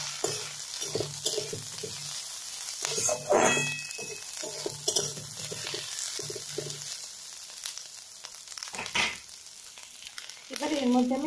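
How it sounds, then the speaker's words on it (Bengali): Chopped green chillies, six or seven, frying in a pan for a Bengali betho saak dish, with a steady close sizzle and intermittent stirring scrapes throughout, plus occasional clinks. "এবারে আমি এর মধ্যে কাঁচা লঙ্কা কুচিতে দিয়ে দেবো"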